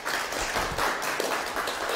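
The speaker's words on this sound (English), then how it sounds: "Please have a big clap for her" An audience at a science week lecture in Mizoram applauding a student, a steady, fairly faint wash of clapping that carries on without a break.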